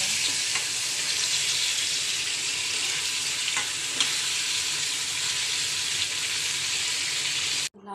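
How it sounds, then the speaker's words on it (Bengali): Bottle gourd peel frying in mustard oil gives a loud, steady, close sizzle with faint stirring scrapes throughout, cutting off abruptly at the end. "লাউয়ের খোসাটা আমি সরিষার তেল দিয়ে ভেজে নিচ্ছি।"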